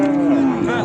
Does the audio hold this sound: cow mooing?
yes